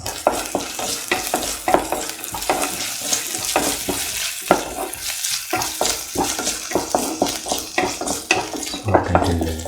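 Garlic and ginger, with shallots and salt, stir-fried in a pan: a steady close sizzle of frying food broken by repeated scraping and clattering stirs against the pan throughout.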